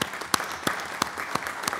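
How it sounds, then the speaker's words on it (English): A small council-meeting audience applauds an honorary mayor, a brief scattering of claps with several distinct sharp hand claps spaced roughly evenly, fairly close and not very loud. "let's give her a round of applause for helping us like she did today"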